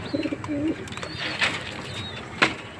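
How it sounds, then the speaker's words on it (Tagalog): Pigeons coo from inside a cage, with a few soft, low cooing calls and brief chirps up close, along with faint scuffling and mechanical clicks in the background. "dito naman sa kabilang kulungan, yung mga nadagit ko na kalapate"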